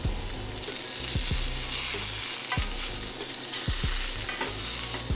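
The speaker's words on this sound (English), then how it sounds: "So first I'm just going to add about 1 to 2 tablespoons of butter." Butter sizzles in a hot grill skillet with a dense, close hiss, and a utensil repeatedly knocks and scrapes against the pan, no voices.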